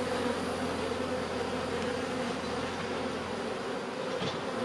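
Honeybees swarm-ready in spring, buzzing at an open hive during a colony inspection: a steady, dense, close drone of many wings that holds at an even level throughout, with no talking.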